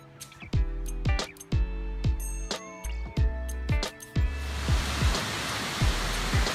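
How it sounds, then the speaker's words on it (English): The Mae Ya waterfall in Doi Inthanon Park, Thailand, rises into a broad, steady rushing roar in the second half, after a run of sharp, regular knocking impacts. "is the Mae Ya waterfall. Absolutely astounding."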